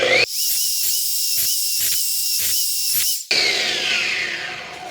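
An Evolution R255 SMS+ miter saw blade cuts through wood with screws embedded in it, a loud, high whine broken by a rhythmic series of quick bites as the teeth strike the screws, followed by the motor winding down.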